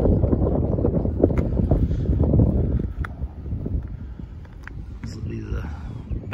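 Strong wind gusting behind an abandoned Kmart, roaring and buffeting loudly for three seconds before easing to lighter rumbles, with a person speaking over it.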